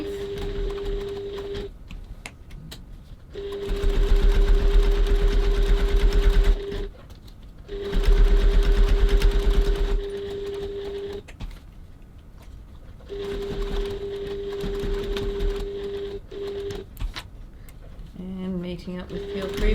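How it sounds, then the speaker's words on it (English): A sewing machine back stitching across a crossbody bag pocket, running in several loud whirring bursts separated by brief pauses, close by, with a voice talking at points between and under the stitching. "Just going to back stitch across there for a bit of extra strength."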